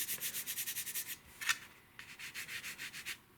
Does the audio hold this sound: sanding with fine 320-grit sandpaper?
yes